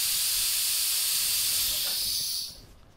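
A Virutex pneumatic vacuum table driven by a compressor gives off a steady, bright hiss of rushing air that holds evenly before cutting off abruptly near the end, leaving a faint room murmur.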